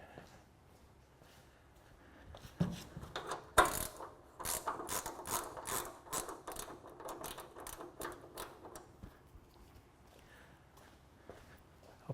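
A wrench works loose the bolts on a car hood, giving a run of quick ratcheting clicks and metallic taps that bunch up in the middle and then thin out, fairly close and alone.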